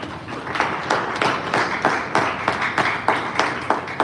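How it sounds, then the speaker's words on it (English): An audience claps for their CEO at a live wellness company event, with quick bursts of applause rising and falling in a steady rhythm for about four seconds. No voices are heard. "let's clap for our CEO"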